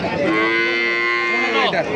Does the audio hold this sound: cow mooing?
yes